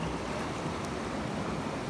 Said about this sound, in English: This water's moving real fast.